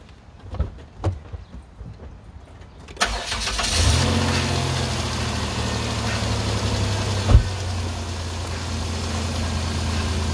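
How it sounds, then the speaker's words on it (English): Car engine cranks over after a few quiet clicks and taps, catches around four seconds in, then settles into a steady, fairly close idle with one sharp knock partway through. "and then I'm going to start the engine"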